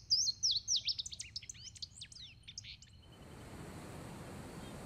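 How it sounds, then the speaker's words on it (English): Male birds sing in spring, a bright, rapid run of high chirps and trills up close that stops abruptly partway through, giving way to a soft, steady wash of outdoor noise. "the male birds begin to sing"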